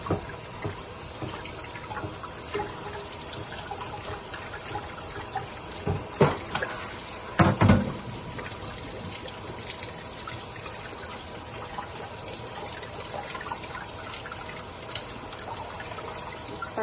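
Peeled roasted chilies are rinsed under a running kitchen tap, a steady trickling stream with brief splashy bursts as hands work the peppers, fairly close and moderately loud.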